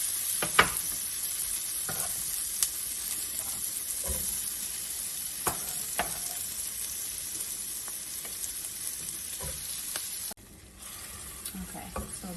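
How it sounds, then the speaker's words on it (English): Vegan sausage meat frying with peppers in a pan, a steady close sizzle with intermittent stirring clicks and scrapes of a utensil throughout. "This is how the meat looks as it begins to cook."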